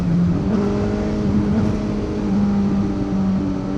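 2024 Suzuki GSX-S1000GT motorcycle being ridden, its engine droning steadily and loudly up close with slight pitch shifts as it holds speed, plus wind rush.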